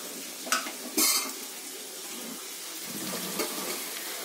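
Onion, chili and capsicum lightly browning in a pan, a soft steady frying hiss nearby, punctuated by a few sharp clinks of a utensil against the pan and gentle stirring scrapes.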